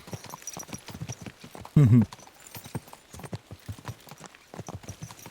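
Horse hooves clip-clopping steadily in the medieval video game Kingdom Come: Deliverance 2, a regular trotting rhythm throughout with a brief loud snort or whinny near the middle.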